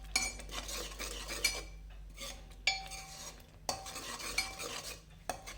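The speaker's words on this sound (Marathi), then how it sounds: "आणि ती पेस्ट चांगली या तुपाबरोबर भाजून घेऊ" A gravy paste roasts in ghee for a rich vegetable curry, with faint low sizzling under repeated sharp clinks and scrapes of a spoon against the pan.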